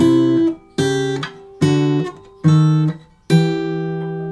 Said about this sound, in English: We have a chromatic run here.